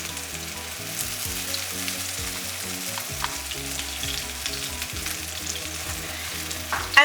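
Zrazy patties fry in hot oil in a pan, giving a steady, dense sizzle that runs unbroken throughout, with a few faint clinks and no talk.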